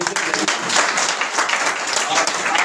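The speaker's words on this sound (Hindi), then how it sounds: "एक बार ताली आप अपने लिए" An audience at an RCM gathering in Thalisain claps together in a sustained, loud round of applause, with a voice faintly mixed in beneath the clapping.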